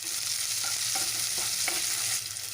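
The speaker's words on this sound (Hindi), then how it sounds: "प्याज को ब्राउन होने तक हमें भूनना है।" Onions and green chillies fry and get stirred in a pan, giving a steady sizzle with occasional scraping strokes throughout, close and moderately loud.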